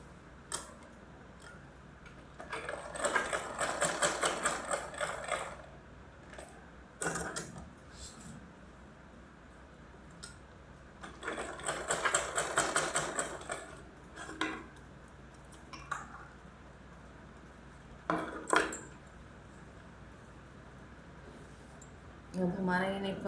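Sewing a drawstring waistband casing on a garment, the machine runs in two longer clattering bursts and several brief ones, with quieter pauses between the stitching runs.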